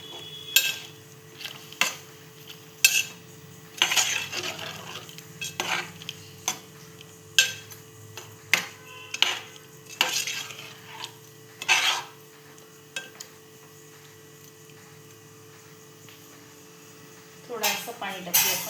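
Fish curry ingredients are stirred in a metal pot with a spoon, giving a series of sharp scraping clinks in an uneven rhythm, close and moderately loud, with a faint background hum.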